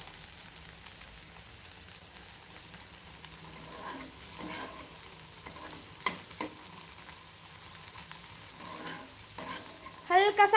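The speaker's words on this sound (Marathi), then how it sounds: "शिमला मिरची आणि कांद्याचा जो कच्चपणा आहे तो निघून जाणार एक दोन सेकंदच करायचं आहे आपल्याला फ्राय" Capsicum and onion stir-frying in a pan, a quiet continuous sizzle with intermittent spatula scrapes and stirring strokes, close but soft, growing louder in a short clatter at the end.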